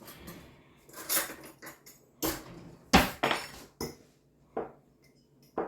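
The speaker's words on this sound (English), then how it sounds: "We're gonna mix those all up." Brown sugar and cinnamon being mixed in a bowl for apple fritter bread, with a utensil scraping and clinking against the bowl in several short, separate bursts.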